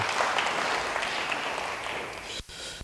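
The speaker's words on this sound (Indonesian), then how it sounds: "beri tepuk tangan bagi dia" A church congregation claps together in a dense, continuous burst of applause that cuts off abruptly near the end, heard close and fairly loud.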